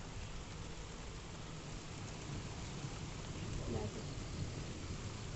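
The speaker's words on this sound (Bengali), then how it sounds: "এখনো বৃষ্টি হচ্ছে," Steady rain falls outside during a storm, a continuous dense hiss of drops on surfaces that stays even throughout, with no voices.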